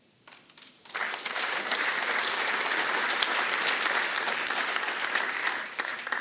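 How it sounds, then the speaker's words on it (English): Audience applause at a college athletics Hall of Fame induction ceremony, swelling quickly after a brief pause into sustained, dense clapping from a large crowd that holds steady before easing slightly. "thanks for the applause"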